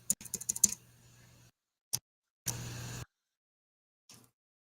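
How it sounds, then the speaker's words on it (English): Bursts of typing on a computer keyboard, a quick run of clicky keystrokes followed by a few separate short clusters with silent gaps between, fairly close and alone. "Because I can hear you typing."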